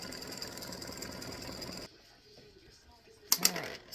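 An embroidery machine stitches a freestanding lace oak leaf with a fast, steady mechanical chatter that stops abruptly partway, followed by quiet handling and two sharp clicks.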